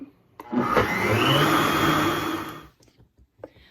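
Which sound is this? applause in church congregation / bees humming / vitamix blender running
vitamix blender running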